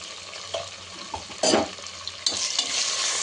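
Browned onions with mint, turmeric and ginger-garlic paste fry in a pan, a soft steady sizzle with a few sharp stirring scrapes and then a louder burst of hiss.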